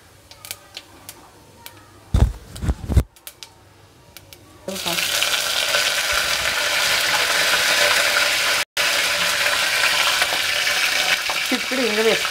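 Chana dal, urad dal, mustard seeds and cumin hit hot oil for a tempering for tomato rasam, breaking into a loud, steady, crackling sizzle after a few clinks and taps, close by.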